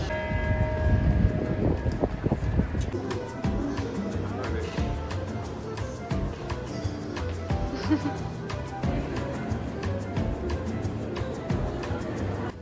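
Church bells ring in Venice in a long run of repeated metallic strikes, moderately distant, mixed with wind noise and a faint voice.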